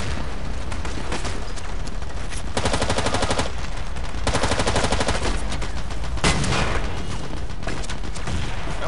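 Dense, continuous gunfire from Battlefield 2 in a 16 vs 16 match: loud bursts of automatic weapons and booming blasts overlap without pause for the whole stretch.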